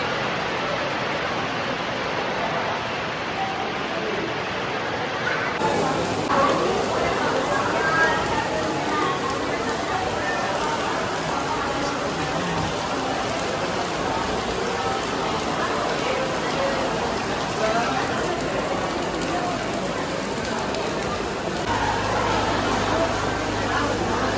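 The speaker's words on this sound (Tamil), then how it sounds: "மழை அடிச்சு ஊற்றிட்டு இருந்தது" Heavy rain pouring down outside a Perumal temple, a dense, constant hiss of water on surfaces that fills the whole stretch, with people talking.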